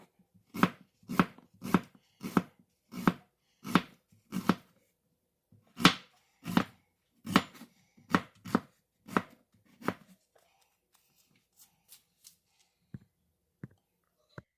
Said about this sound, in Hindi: इसी तरीके से आपने भी बारीक बारीक प्याजों को काट लेना है।